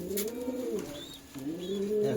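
Pigeons kept by a seller in Beldanga, Murshidabad coo in two drawn-out, rolling phrases, close by and clear, with a few faint high chirps behind them and nobody speaking.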